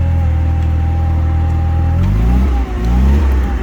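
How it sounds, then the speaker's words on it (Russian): A Toyota 6FG15 forklift's four-cylinder petrol engine idles steadily up close, its rumble shifting pitch and roughening partway through as it revs slightly. "Двигатель у нас 4-цилиндровый."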